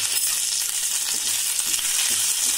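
Curry leaves and sesame seeds fry in hot ghee for a brinjal kadambari tempering, a loud, dense, continuous sizzle with crackling throughout and no voices.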